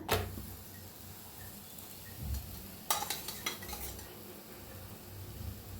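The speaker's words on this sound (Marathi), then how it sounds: "फिरवून घेऊया आता." A spoon scrapes and clinks against a cooking pan as onion dal is stirred, producing soft scrapes early on and a brief cluster of sharper metallic taps midway, fairly quiet and with no voices.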